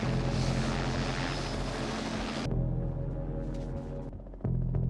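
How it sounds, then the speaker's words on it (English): A helicopter flying in during a scene from the 1982 film The Thing, a loud steady engine and rotor drone that holds throughout, cutting down partway and then swelling again near the end, with no talk over it. "waited for this shot of this helicopter flying in"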